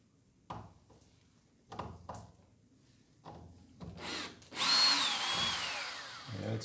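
Power drill backing out screws, several brief whirring bursts spaced apart, then a longer, louder run with a rising whine, close and with no talk.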